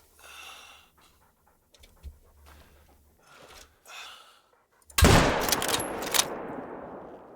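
A single loud, sharp rifle shot cracks at an animal in theHunter: Call of the Wild, followed by a ringing outdoor echo; before it come quiet panting breaths and faint rustling.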